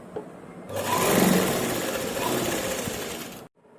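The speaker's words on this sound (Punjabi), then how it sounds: "ਆਪਾਂ ਨੇ ਇੱਕ ਸਲਾਈ ਤੇ ਲਾ ਲਈ ਜੀ ਲੈਸ ਤੇ" A sewing machine runs steadily, stitching lace onto the edge of a dupatta, with a continuous close, loud whirring hum lasting about three seconds before stopping abruptly.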